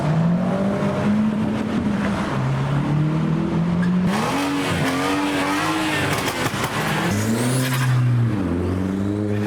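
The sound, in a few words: modified cars hooning, engines revving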